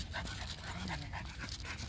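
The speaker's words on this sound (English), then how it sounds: "Everybody's out here with their dog today at the beach. And some of these dogs are pretty excited." Excited dogs pant steadily and close by at a busy beach, a rapid breathy rhythm over constant wind-like background noise with no talking.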